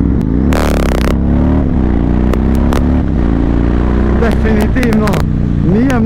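A 2005 Yamaha MT-01 motorcycle slowing down during a ride, its engine note dropping and rumbling low beneath a voice talking throughout, with wind noise and a few brief clatters.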